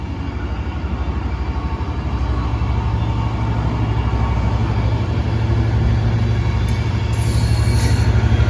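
A Northern diverted train rumbles past with its locomotive at the rear, a steady loud roll of wheels on rail throughout, with faint wheel squeal near the end.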